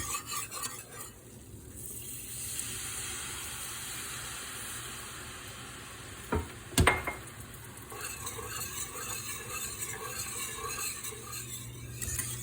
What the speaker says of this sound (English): we'll just continue stirring to let it thicken up